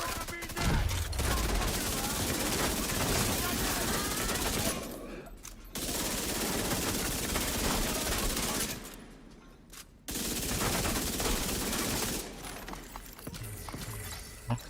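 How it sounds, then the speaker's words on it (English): Sustained minigun fire in The Division 2, a dense continuous roar of rapid shots running in long bursts with brief pauses between them. "Minigun power restored."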